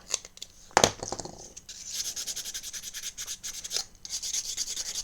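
Sandpaper rubs over small plastic model bus parts at close range in soft, quick scratchy strokes with brief pauses, including one sharper louder scrape, and no one talking.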